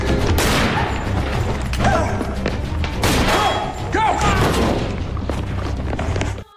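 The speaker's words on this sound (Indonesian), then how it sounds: "Cole langsung menembak Homri" Gunfire in an action film scene: loud, booming shots and thuds in quick succession over a dense, dramatic soundtrack, with a narrator talking over the action.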